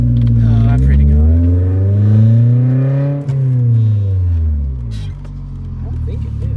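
Car engine rising and falling in pitch as it accelerates and eases off during a parking brake test, a loud interior drone heard close with people talking over it.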